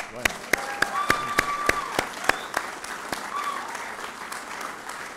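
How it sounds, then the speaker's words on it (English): A crowd applauds at the Nasdaq Veterans Day closing bell ceremony honoring West Point, with crisp, distinct claps ringing out over a steady patter, tones and voices audible beneath. "Let's give a round of applause for that too"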